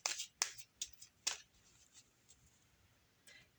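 A deck of cards being shuffled during a tarot or oracle reading: four quick, faint riffling bursts in the first second and a half, then a softer flutter near the end, with no talking.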